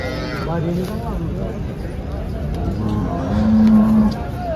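Cows, including HF and Jersey breeds, low and moo amid a busy crowd at a cattle market in Chalisgaon, with people talking nearby and a longer, louder moo near the end.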